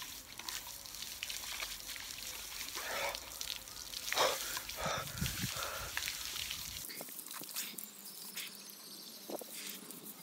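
Water from an outdoor shower pours in a steady, broad hiss, fairly close and unbroken, with the low rumble thinning out partway through.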